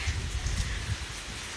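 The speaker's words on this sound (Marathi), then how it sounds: "काय पाऊस पडतो आणि किती मस्त वाटतंय" Steady rain falling in a village in Devgad, a dense, even hiss with a low rumble underneath, continuous and fairly close, with no voices.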